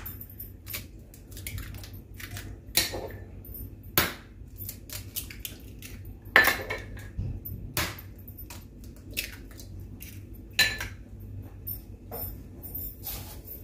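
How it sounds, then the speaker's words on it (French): Eggs cracked for homemade brownie batter in a home kitchen: a few sharp cracking taps spaced several seconds apart, with soft squishy handling and light clatter between them, fairly quiet and without talk. "Casser les œufs."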